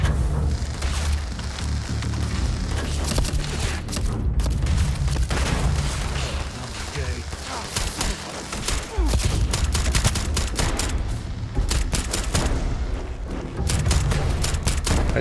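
Heavy Starfield firefight with a Beowulf rifle: loud bursts of automatic gunfire and booming impacts, near and dense, stopping briefly and resuming across the span, no voice over it.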